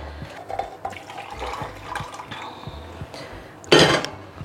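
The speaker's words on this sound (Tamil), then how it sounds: "இன்னும் கொஞ்சம் தண்ணி சேர்க்கணும்." Water poured into a pot of toor dal lentil sambar as it cooks, with a soft trickle and splashing plus some light kitchen clatter, ending in a short louder gush.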